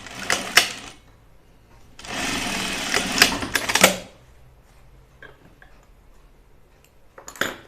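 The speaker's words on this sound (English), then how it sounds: "So I'm just gonna do a regular 5/8 inch seam here." A domestic sewing machine stitching a 5/8 inch seam in dungaree fabric, running in a couple of short whirring bursts with clicks and handling noises between them, close up and without talking.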